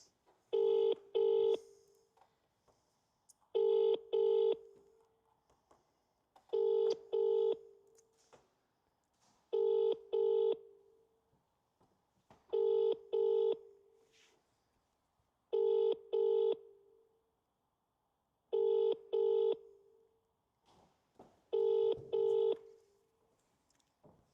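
A phone call rings out with a repeating double-burst ringback tone, about eight paired rings at even intervals separated by silence, with no talk over it.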